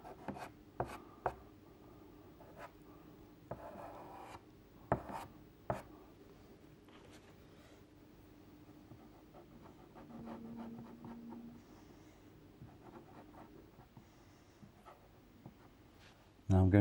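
Soft pastel scratches and rubs on paper while a kingfisher picture is coloured, with intermittent dry strokes and taps, fairly close and quiet, under occasional talk.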